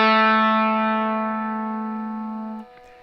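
A distorted electric guitar rings out a single sustained note from a riff, fading slowly before being cut off abruptly, played alone with no talking.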